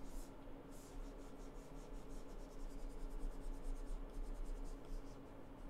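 A stylus draws and erases on an iPad screen, giving soft, continuous scratchy rubbing strokes that are quiet and close, with no voice over them.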